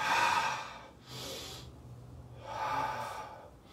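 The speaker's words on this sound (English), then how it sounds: "And breathe." Slow, deep breaths during a qigong exercise, with a long audible inhale followed by an exhale and then another inhale, close and fairly quiet with no talking.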